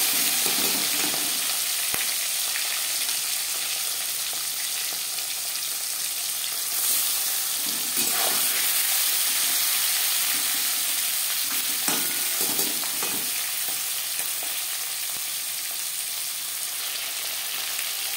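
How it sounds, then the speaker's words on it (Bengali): Tangra fish rubbed with salt and turmeric fry in refined oil in a pan, giving a steady, close hiss and crackle of sizzling that continues throughout with no voices. "মাছ আমি হালকা করে ভেজে নেব।"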